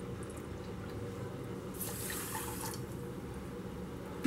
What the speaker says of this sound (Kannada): ಸೇಮ್ ಅದೇ ಕಪ್ನಲ್ಲಿ 1 ಕಪ್ಪಷ್ಟು ಸಮ ಪ್ರಮಾಣದಲ್ಲಿ ನೀರು ಹಾಕ್ಕೊಳ್ಳೋಣ.